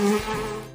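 A honeybee buzzes close by in a brief, steady drone, loud and alone with no voices.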